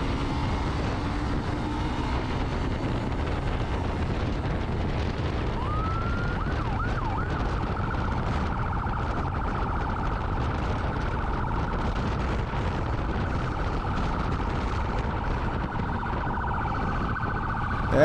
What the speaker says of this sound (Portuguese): Uma sirene de bombeiro.